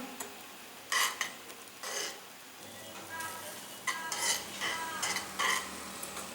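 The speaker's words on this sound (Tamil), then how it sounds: "சுகர் வந்து போட்டுட்டு நம்ம கொஞ்சம் கிளறி விட்டுக்கலாம்" Sugar being stirred into Kongu Nadu style beetroot payasam, a spoon scraping around the pot in repeated short bursts over a soft, steady simmer, close and fairly quiet, with no talking.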